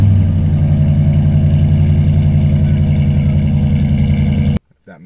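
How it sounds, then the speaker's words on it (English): 2019 Ram 1500 pickup with a Hemi V8 and a new exhaust idling close by, a deep steady rumble with a low throbbing pulse that stops abruptly near the end. "I just think a Hemi has the more of a deeper tone"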